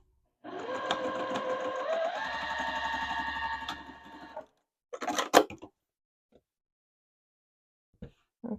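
A sewing machine stitches quilt binding strips together in one steady whirring run of about four seconds with rising motor pitch, followed by brief handling clatter and a few faint knocks.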